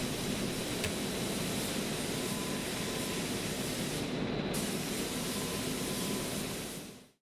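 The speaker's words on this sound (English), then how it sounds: "keep spraying until that base colour is completely covered" A steady hissing spray from an aerosol can of heat-changing paint applied to an exhaust runs for several seconds, broad and even, with a brief dip before it fades out at the end.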